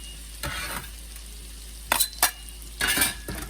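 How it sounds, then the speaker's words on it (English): Onions and garlic sauté in a pan with a steady sizzle, broken by a few louder bursts of scraping and stirring, close up with no voices. "I'm gonna saute my onions and my garlic"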